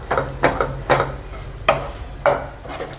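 A spoon stirs potato filling for Indian-style pastel in a frying pan, making five or six distinct scraping strokes in an uneven rhythm over a soft background sizzle, close and fairly loud.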